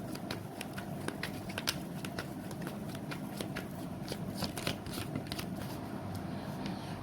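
Tarot cards being shuffled by hand, a steady run of quick, crisp riffling clicks and flutters up close for several seconds, with no talking.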